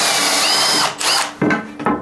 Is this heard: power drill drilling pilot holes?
yes